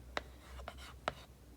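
A pen scratches across paper in a few short, quiet strokes with pauses between them, heard close and alone.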